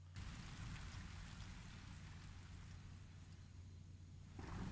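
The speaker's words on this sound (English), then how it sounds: "The thunderstorm is on as well." Steady heavy rain hisses with a low rumble of thunder underneath, a dense, continuous storm bed used as an effect within a jungle-themed music track, swelling slightly at the end.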